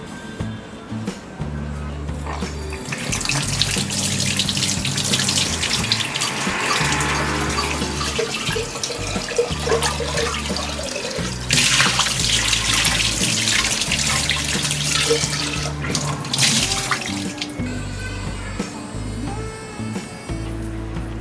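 Clay cooking pots being washed under a running tap, with steady water flow splashing and clattering against the earthenware for about twenty seconds, with brief louder bursts as the pots are turned under the stream.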